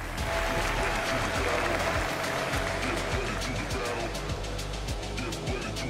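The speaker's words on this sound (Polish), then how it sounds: "Wielkie brawa!" An audience at a fight promotion media event applauds continuously, a dense roar of clapping with low rumbling background noise and faint voices underneath.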